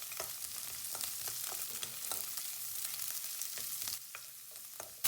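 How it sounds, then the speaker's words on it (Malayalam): Red chili, ginger, garlic, green chili and onion sauté in a pan for vegetable rice, giving a continuous close sizzle with repeated spatula scrapes, fairly even in loudness throughout. "ചുമന്ന മുളക്, ഇഞ്ചി, വെളുത്തുള്ളി, പച്ചമുളക്, പിന്നെ നമുക്കിത് സവോള ഇത്രയും ഇട്ടിട്ട് ഒന്ന് വഴറ്റിയെടുക്കാം"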